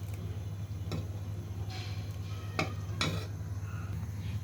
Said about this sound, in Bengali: তো এখন হচ্ছে অনবরত নাড়তে হবে, না হলে আবার লেগে যাবে।